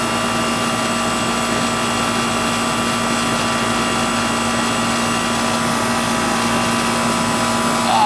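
An old air-conditioning system low on freon runs its fan, producing a steady, unbroken mechanical drone with a constant tonal hum throughout.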